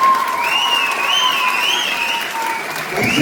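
An audience cheers a performance with dense, loud, continuous applause, while a shrill whistle rises and falls above the clapping.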